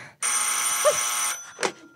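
Old-fashioned telephone bell ringing in a radio drama: one sustained, close, loud metallic ring lasting about a second, followed by a brief clatter.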